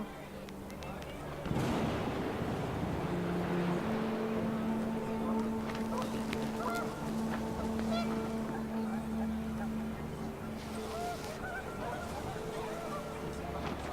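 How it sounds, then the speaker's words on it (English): Panicked geese in the video game What Remains of Edith Finch honk in a brief flurry over gusting wind and ambient outdoor rumble, fairly faint and partly under a low drone. "The wind picked up and panicked geese appeared and quickly went."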